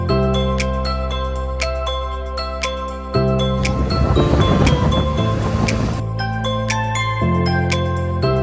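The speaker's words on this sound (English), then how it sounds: "This place showcases stone steps carved by endless waves." Ocean waves wash against a coastal rock area with wave-carved stone steps in Hualien, Taiwan, a mid-clip surge of surf rising over sustained tonal music with chiming accents.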